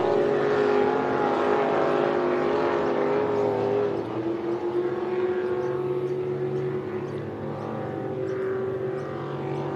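Racing powerboats roar across Lake Eppalock during a yellow-flag lap of the Eppalock Cup, engines droning loudly and steadily with shifting pitch as the boats pass, the sound dipping and rising again near the end.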